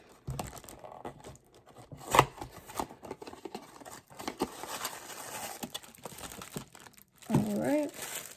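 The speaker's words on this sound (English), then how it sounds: "So it's wrapped in tissue paper." Tissue paper wrapped around a Clinique mascara crinkles and rustles in bursts as a gift box is unwrapped close by, with a brief voice near the end.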